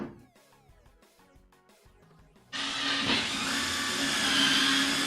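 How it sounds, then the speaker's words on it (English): A power drill bores a pilot hole into wood for a CRT stand build, kicking in abruptly partway through with a loud, steady whirring grind that holds to the end. "we're gonna go ahead and pre-drill a hole over here"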